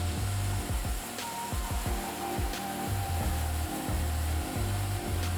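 A milling machine cuts with a 3/32 end mill, stepping down in 3 thou increments while making blade fixtures for balisong-style scissors; a steady motor hum runs throughout, with rhythmic low chattering bursts as the cutter bites, and no talk.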